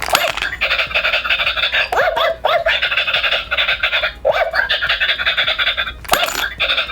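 A toy dog gives repeated electronic barks and yaps in a looping pattern, fairly close and loud, with brief pauses between bursts.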